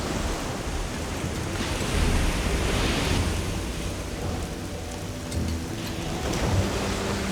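A rain and thunder storm in the video game Risen 2 gives a dense, steady downpour hiss with low rolling thunder rumbling underneath, swelling slightly at moments, heard alone without talk.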